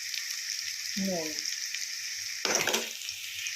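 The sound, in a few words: onions frying in a pan for bhuna khichuri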